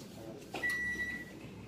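A slightly loose, worn microwave oven hums steadily at close range, with a thin electronic whine running through it after a brief knock near the start.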